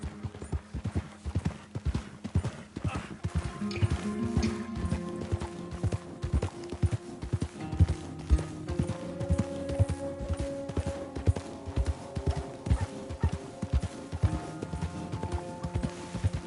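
Horse hooves clip-clop in a steady, rapid rhythm throughout a video game scene, close and distinct, with faint background tones and occasional voices.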